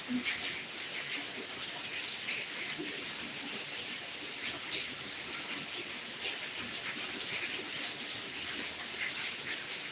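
Steady rain falls for about ten seconds, an even hiss of drops with no breaks, moderately quiet and with no talk over it.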